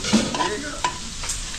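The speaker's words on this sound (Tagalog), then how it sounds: "So, lalagyan na natin yung baka." Beef tossed into a hot pan of golden-brown garlic and onion, a loud close sizzle with a couple of quick scraping stirs over a brief moment, without speech.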